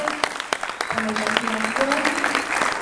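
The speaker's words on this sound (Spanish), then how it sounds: "Les pido un nuevo y fuerte aplauso para ellos." Applause from an audience, a scatter of claps with a voice talking over them throughout.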